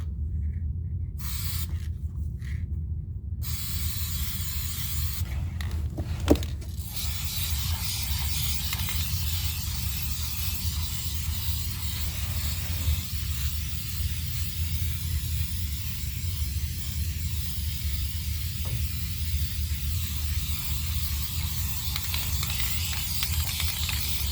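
Duplicolor Cardinal Red base coat sprayed from an aerosol can onto a Ford Ranger rocker panel under repair, heard as a steady close hiss in long bursts with brief pauses between passes.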